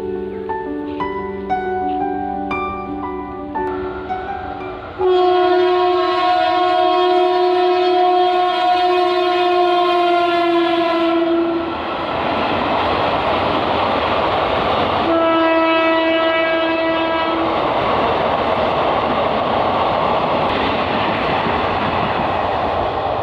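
An express train passes through Duya station on the South Eastern Railway, its loud horn sounding in long sustained blasts over a steady roar of wheels and carriages that carries on throughout.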